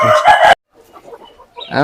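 An Aseel rooster crows loudly and close by in a short burst, followed by a brief quiet stretch with faint fowl sounds before another crow begins.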